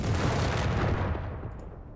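Gunfire and explosions in a Company of Heroes 3 battle, German Afrika Korps against British forces: a dense, loud burst of shots and booming blasts that fades away over two seconds, with no talk.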